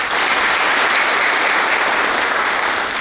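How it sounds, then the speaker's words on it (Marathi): Steady, dense applause from a large audience at a Maharashtra conference of cooperative society secretaries, loud and continuous throughout with no speech over it. "एकदा त्यांच्यासाठी टाळ्या वाजवा"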